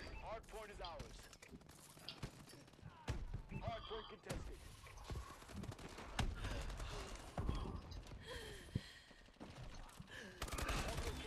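Rapid bursts of Mayhem weapon fire in Call of Duty Advanced Warfare, sharp repeated blasts and impacts scattered through chaotic multiplayer combat, with a voice talking over the shooting.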